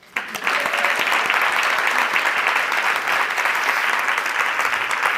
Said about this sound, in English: can we give a round of applause to this extraordinary emerging woman?